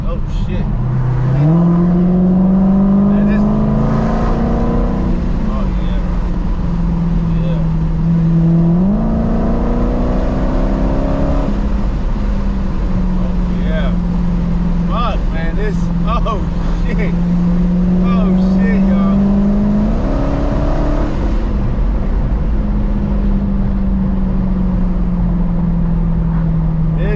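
A Dodge Hellcat's engine rumbles loud and close from inside the car while driving, with rising and falling gear pulls and a deep steady drone, and a person talking over it.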